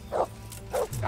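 Dog barking in the medieval role-playing video game Kingdom Come: Deliverance, with two short, fairly close barks spaced apart over a low in-game ambient background.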